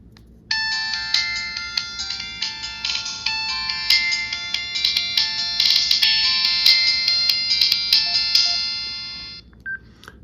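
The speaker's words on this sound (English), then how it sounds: "So we have the Virgin tone." The Virgin tone ringtone plays on a Virgin Mobile K7 Rave, K9 or K10 Royale phone, a bright electronic melody of rapid repeating notes lasting about nine seconds, loud and alone, then stops with a faint click.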